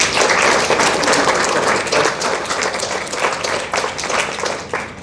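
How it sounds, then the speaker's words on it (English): Audience at a Korean War Armistice Day salute applauds Korean War veterans, a dense, sustained round of clapping that stays loud throughout and eases slightly toward the end. "Can we have another round of applause for all these gentlemen?"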